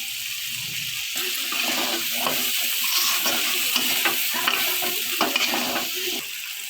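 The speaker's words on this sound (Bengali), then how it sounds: "এবার আমি মাছের কল্লাটা দিয়ে দিচ্ছি।" A fish head goes into a pan of sizzling fried spice mix for a mung dal dish, giving a loud, steady frying hiss with light stirring scrapes and clicks throughout.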